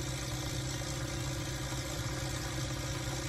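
A modified HMT 3522 tractor engine idles with a steady, rumbling drone and a constant low vibration. The sound is even and continuous throughout, with no voices over it.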